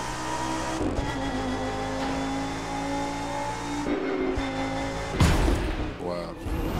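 A street car in The Crew 2 accelerating hard on an open road, its engine droning and revving steadily at high speed, with a sharp burst of noise near the end.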